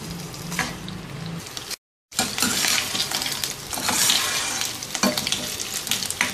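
Mutton chops hit hot olive oil in a heated pan, giving a bright, crackling sizzle with sharp spits and pops, close and loud, broken by a brief silent gap before the frying resumes.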